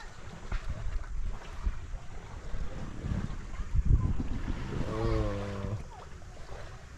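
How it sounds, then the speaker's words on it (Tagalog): Strong sudden gusts of wind out at sea during night fishing with a torch, buffeting the microphone with broadband roar over boat and water noise, and a brief tonal engine-like drone near the end. "Bigla lang lakas ng hangin. Ang hangin niya makalakas."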